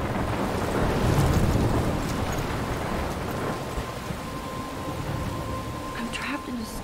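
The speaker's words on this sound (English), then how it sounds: "I'm trapped in a storm?" A storm rages in the Life is Strange video game, with a steady wash of heavy rain and gusting wind that stays loud and dense throughout. No distinct thunderclap stands out.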